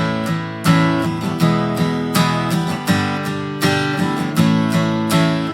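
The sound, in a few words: acoustic guitar verse strumming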